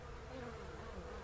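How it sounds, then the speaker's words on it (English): Many bees buzz around a nearby hive in a steady, dense drone that holds evenly from start to finish with no voices. "bees swarmed a nearby hive"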